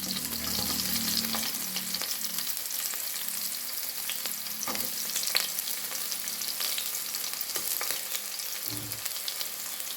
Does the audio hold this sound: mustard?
yes